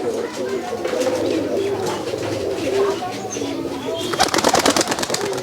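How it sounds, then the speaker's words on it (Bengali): Pigeons coo steadily at a pigeon farm with many birds, soft low murmuring throughout while someone talks over it, and a burst of wing flapping or scuffling near the end. "এটা হলুদ দুবাস কবুতর।"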